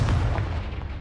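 In Hogwarts Legacy, a Confringo fire spell detonates in a single deep, booming blast that rolls out and fades over a second.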